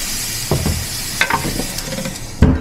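Steak marinated in wine sears on a hot grill, giving a steady sizzle broken by a few short sharp crackles and pops, up close with no talk.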